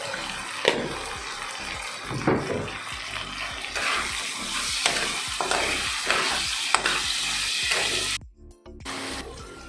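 Half-fried potatoes sizzle in a pan on a Goan home stove, a constant hiss with scraping stirs and clinks running through it, close and fairly loud, and it drops away near the end.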